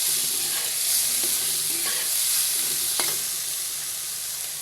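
Eggplant fries in leftover hilsa fish oil with turmeric and salt, giving a loud, continuous hissing sizzle with a few soft stirring scrapes against the pan.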